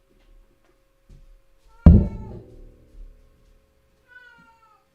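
A house cat lets out one loud, close meow that trails off, followed by a couple of faint softer mews in an otherwise quiet room.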